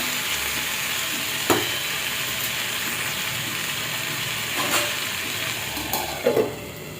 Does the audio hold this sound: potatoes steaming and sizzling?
yes